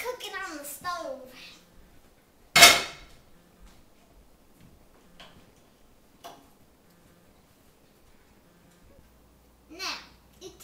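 A pot set down on a stove gives one sharp, loud clang, followed by a few faint clicks and knocks. A voice talks briefly before it.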